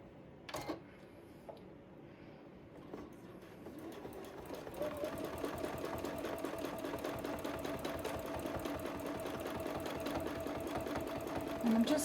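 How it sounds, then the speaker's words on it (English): A sewing machine set up for free motion quilting stitches a small path through fabric as a tension test, starting with a few soft knocks and then settling into a steady close mechanical whir that runs on without talk. "I'm just going to sew a little path, moving my fabric around"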